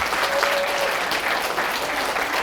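Applause from an audience at a corporate lecture for managers, a steady dense patter of clapping heard alone, moderately loud and sustained without pause.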